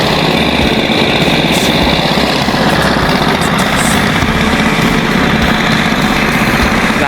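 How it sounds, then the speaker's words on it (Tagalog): A loud, steady engine idles nearby at a tilapia fish cage, a continuous low drone and rattling vibration, unbroken throughout. "Kaya sila may makina rito."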